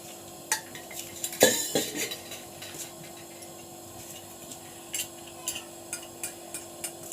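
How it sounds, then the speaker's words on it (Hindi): A pan is handled in a home kitchen while oil is added for a Lays egg omelette, with faint scattered metallic clinks and taps, one sharper clatter early on, fairly quiet overall and with no talking. "ये मैंने पैन लिया है, थोड़ा तेल डाल रही हूँ इसमें"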